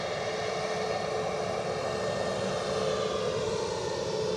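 Steady, unbroken roar of an Embraer 190 jet departing Edinburgh Airport, holding at a constant level throughout with no voices.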